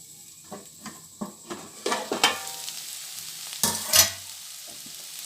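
Okra gravy cooks in a pan, giving a soft sizzle and frying crackle with a series of stirring scrapes that build toward a couple of louder clatters near the end, and no one speaks.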